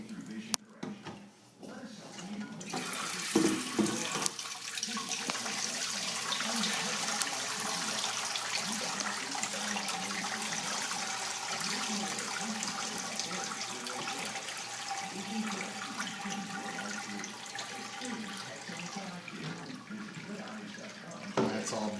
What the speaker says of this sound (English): I'm going to pour the curds and whey into here. I hope this little pan is big enough to hold the whey, but I'm going to strain it all out here.